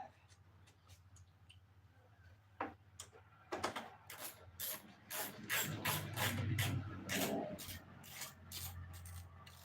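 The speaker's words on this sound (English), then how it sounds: "Getting these other bolts in the back." Bolts are tightened at the back of an assembly, giving repeated ratchet clicks and metallic rubbing in short bursts that grow busier toward the end, fairly faint overall.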